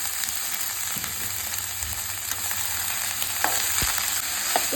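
Cabbage frying in a pan with green chillies and curry leaves gives a steady, loud sizzle with occasional spatula clicks and no talking.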